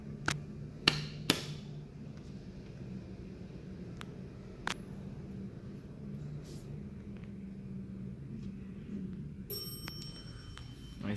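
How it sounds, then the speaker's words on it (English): A few bright chime strikes from an old 1950s Westinghouse Selectomatic high-rise elevator stand out over a steady low machine hum. They come early in a quiet, enclosed lift car, with more faint ticks and dings later. "Nice bell. It's an old Westinghouse from the 50s."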